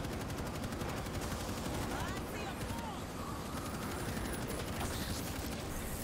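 Rapid gunfire from the World War Z video game rattles steadily throughout, dense bursts layered with game effects while players talk over it.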